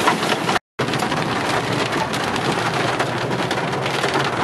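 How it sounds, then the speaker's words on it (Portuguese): Steady rain pours over farmland in rural northern Paraná, a dense continuous hiss of drops hitting the ground and nearby surfaces, close and fairly loud, with a brief dropout near the start and no voices. "chuva no norte do Paraná"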